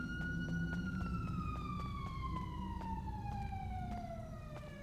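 Police sirens wailing in the GTA V NoPixel roleplay game, a steady siren tone slowly falling in pitch over a continuous low engine rumble, fairly loud and unbroken.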